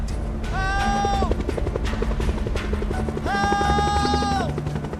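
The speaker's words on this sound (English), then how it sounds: "I can hear helicopters. I can hear the chopper blades coming round and round the mountain" Helicopter chopper blades circling a mountain at high altitude make a steady, heavy rotor throb that runs throughout, with two drawn-out tonal wails rising above it.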